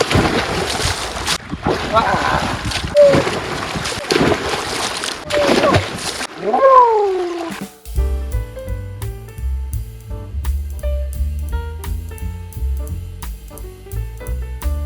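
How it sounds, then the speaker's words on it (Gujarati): Someone splashes and ducks under water in an outdoor water tank fed by running water, loud close surges of sloshing and wind buffeting the microphone, with a short voice in between before music takes over. "નાઈ નાખું કુંડીમાં ધુબકા મારું થોડાક"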